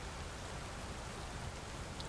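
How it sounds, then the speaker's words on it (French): Steady rain in the video game Satisfactory, a faint, even hiss of falling drops with no breaks and no voices. "il pleut avec un grand soleil"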